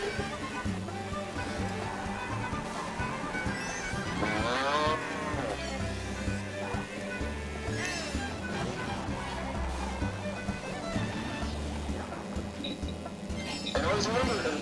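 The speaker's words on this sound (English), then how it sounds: "cows." Cows mooing, with long drawn-out lowing calls rising and falling over a dense mix of music and chatter, heard several times through the stretch.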